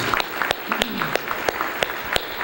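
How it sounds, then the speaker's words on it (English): Audience at an educator leadership awards symposium applauds, a close, crisp run of distinct claps over a softer crowd patter, with a voice briefly audible underneath. "Let's give everybody a round of applause for their accomplishments."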